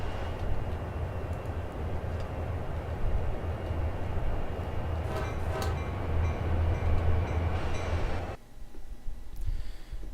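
Southern Pacific 4449 steam locomotive hauling a coal train, a loud, steady rumble of rolling wagons and rail noise with a brief rhythmic chuffing burst midway, cutting abruptly to quieter background near the end.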